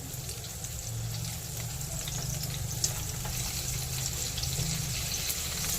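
Bombay duck (bombil) fish fry in a pan over medium heat with a steady, moderate sizzle that holds evenly throughout, no voices over it.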